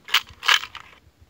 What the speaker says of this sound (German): eine Zigarettenschachtel mit Kleingeld